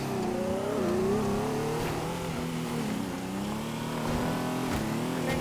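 A race car in a Teardown video game accelerates steadily, its engine a continuous buzzing whine that shifts pitch slightly and stays fairly loud throughout, with no talk over it.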